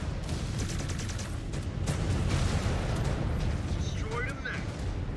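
Missile explosions rumble through a Mechwarrior 5: Clans battle, a continuous loud roar of blasts and heavy mech combat filling the scene, with a few higher whooshing streaks near the end.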